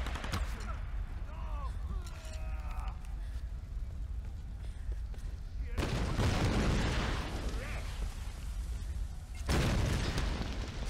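Bursts of gunfire and booming blasts in a noisy Tomb Raider game mix, with heavy volleys kicking in partway through and a voice talking underneath in Spanish.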